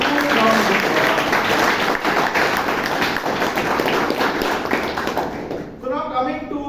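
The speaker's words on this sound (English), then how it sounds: "Please give Toastmaster Rahul a huge round of applause." Loud, dense applause from a Toastmasters meeting audience fills the room and then cuts off near the end, where a voice begins speaking.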